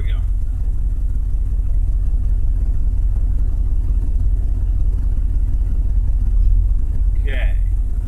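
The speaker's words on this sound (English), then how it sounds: "Engine has been warmed up." A car engine running on hydrogen HHO idles steadily after warming up, a low constant rumble that stays even throughout, with a brief faint sound near the end.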